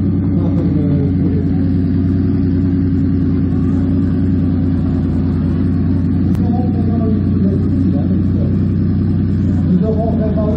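A 1976 Porsche 911 Turbo (930) engine at a Spa classic car event, a steady loud rumble with low droning tone throughout, mixed with crowd or commentary voices.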